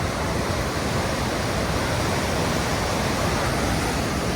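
A river rushing at Sonamarg in Kashmir, a loud, close, continuous roar of churning water, steady and unbroken throughout with no voices.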